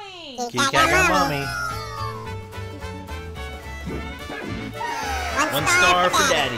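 Cartoon cat meowing in the Playroom VR game, loud repeated meows over game music while family members talk and laugh over them.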